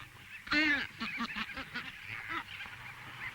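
Gannets at a nesting colony on a remote island, giving harsh, honking calls up close, first one loud squawk, then a quick series of rasping, overlapping cries that fade.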